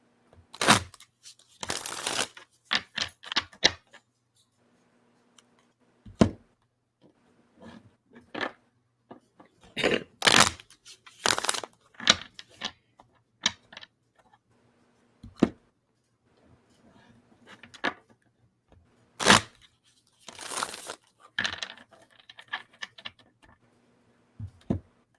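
A deck of cards is shuffled close up in several quick riffling bursts, separated by quiet pauses and faint handling clicks.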